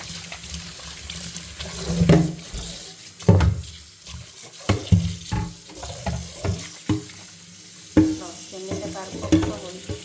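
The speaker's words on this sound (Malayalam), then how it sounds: "ഇത് വാഷ് ചെയ്ത് നോക്കാം." A solid copper pot is rinsed and scrubbed under a running tap, with water splashing and sloshing in irregular bursts and occasional metallic knocks against the sink, close by and fairly loud.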